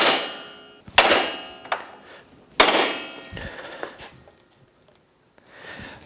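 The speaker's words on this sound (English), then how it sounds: "I can swing the hammer to hit the nut" A hammer strikes the nut on a Yamaha YXZ1000 ball joint to shock it loose from the hub, with two sharp, loud metallic blows and a few lighter taps between quiet gaps.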